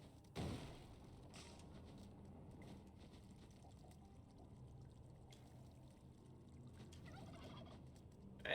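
Turkey gobbling in Spelunky 2, a short burst near the start followed by a sustained warbling game-creature sound over a busy background, with another flurry toward the end.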